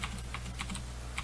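Typing on a computer keyboard, a quick run of soft key clicks, close and faint, with no talking.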